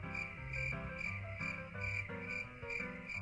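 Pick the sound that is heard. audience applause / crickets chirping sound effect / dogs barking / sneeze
crickets chirping sound effect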